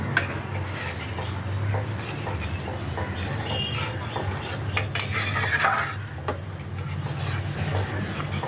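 A spoon stirs turmeric into mango dal in a metal pot, scraping and clinking against the sides in a steady, irregular rhythm with no talking.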